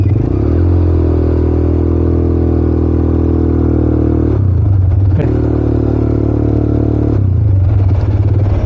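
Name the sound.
motorcycle being ridden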